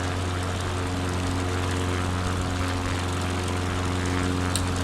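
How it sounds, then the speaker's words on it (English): A small propeller plane drones steadily and loudly in flight with a constant engine hum and a tonal buzz, heard from inside the cockpit with no voices. "It's not terribly fast, this plane"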